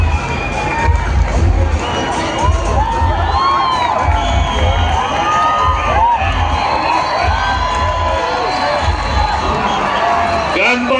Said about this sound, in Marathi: शिवतेज संघाने यशस्वी थर लावले त्याबद्दल त्यांचा टाळ्या वाजवून आपण सर्वांनी स्वागत